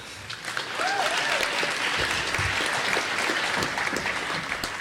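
Steady applause from a crowd, dense clapping sustained throughout with a faint whistle or cheer rising above it.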